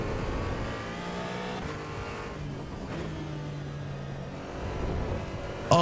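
A Porsche Cayman engine in the Assetto Corsa Evo racing game revs and shifts through gears, rising and dropping pitch in steady runs, loud and continuous with no speech.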